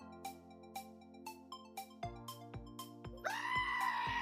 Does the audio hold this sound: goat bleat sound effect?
yes